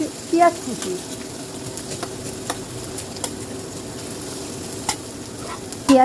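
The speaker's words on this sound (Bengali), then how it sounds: "গরম তেলে এখন দিয়ে দিলাম কিছু পেঁয়াজ" Chopped onions fry in hot oil with a steady, close sizzle, and brief utensil clatters come at the start and end, with no clear speech.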